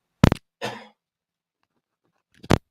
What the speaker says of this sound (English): Give me a second here of the cough